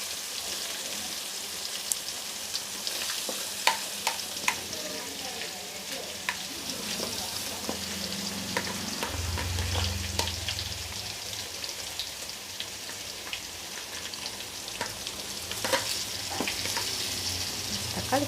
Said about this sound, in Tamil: இப்போது அது நல்லா பொரிஞ்சதும் வெங்காயம் இஞ்சி பூண்டு பேஸ்ட் அப்படியே கூடவே போட்டுருந்தோம்